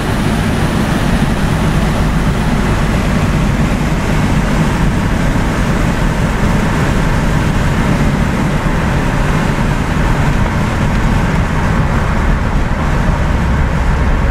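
A Datsun 280Z cruises at about 70 on a road, giving a loud, steady broadband roar of engine, tyre and wind noise that runs unbroken throughout.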